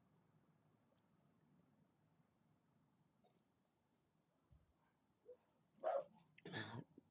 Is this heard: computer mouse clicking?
no